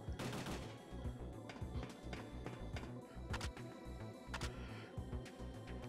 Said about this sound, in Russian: Он сейчас стрелял.